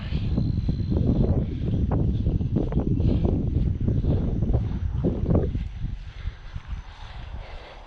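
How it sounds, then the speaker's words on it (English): Wind rushes steadily across the microphone during a half marathon trail run in Bastrop, Texas, a loud, buffeting roar that dominates before easing slightly near the end. "Wind is nice, but I'm definitely ready to be done."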